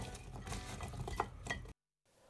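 Venison bundles are tossed in olive oil, salt and pepper inside a roasting pan, giving a close, soft patter of meat shifting and scraping against the metal that ends abruptly in silence.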